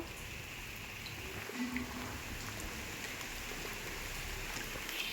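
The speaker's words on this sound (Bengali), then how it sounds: "এই দেখো কত বৃষ্টি হচ্ছে দেখো" Heavy rain falls outdoors as a faint, even wash of patter that stays steady and unbroken throughout.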